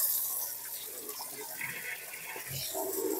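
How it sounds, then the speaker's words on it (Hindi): Dirty water gushing out of a washing machine drain pipe during servicing at home, a loud steady rushing and splashing flow throughout, with no talk. "ये देखो भैया अभी ड्रेन के पाइप से देखना कितनी गंदगी निकलने वाली है।"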